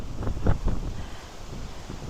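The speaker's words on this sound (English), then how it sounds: "it's windy" Gusty wind buffets the microphone in low rumbling bursts, strongest early on and easing into a steady outdoor whoosh.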